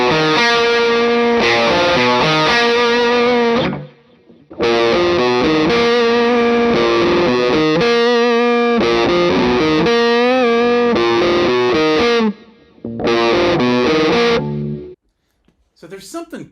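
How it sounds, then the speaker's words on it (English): Gibson-style Explorer electric guitar playing a loud distorted riff with sustained chords, broken by two short pauses and ending on a brief trailing note. "I want to play a riff with distortion."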